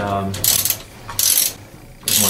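A wrench ratchets bolts off a steam boiler valve in three short bursts of clicking, close and fairly loud, with quiet pauses between them.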